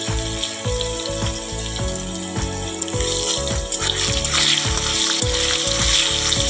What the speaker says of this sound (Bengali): আলুগুলাকে ভেজে নিয়ে লাল করে